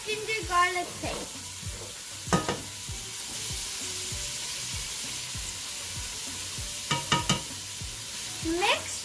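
Meat fries with ginger garlic paste for aloo gosht, a continuous close sizzle broken by loud scraping stirs at the start, around two seconds and near the end, with a faint voice in the background.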